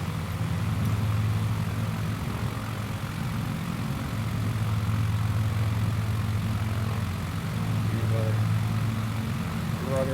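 Steady propeller drone of a light aircraft engine rising in power on a dirt runway in Microsoft Flight Simulator 2020, a continuous close hum filling the whole stretch with no pauses.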